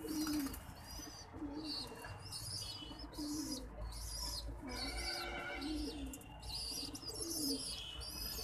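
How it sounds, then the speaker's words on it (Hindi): Pigeons coo repeatedly in soft, low rounded calls, with chirps and twittering from smaller birds over steady background noise. "देखिए भरा रहा है कबूतर ये मेरा।"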